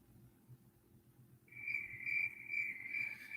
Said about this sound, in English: Oh, crickets. How wonderful.